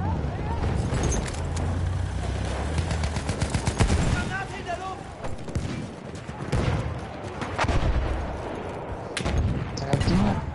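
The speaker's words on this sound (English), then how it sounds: "pull out the shotgun" Shotgun blasts in a video game ring out amid dense, continuous gunfire and battle noise, with several sharp loud bursts standing out; a player's voice talks over the chaos.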